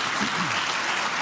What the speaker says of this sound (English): Quick round of applause for the audio angel who is managing that chaos.